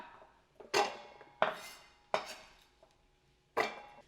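Four sharp, hollow clunks of potatoes dropping into a metal pot, each ringing briefly, spaced unevenly in a quiet kitchen.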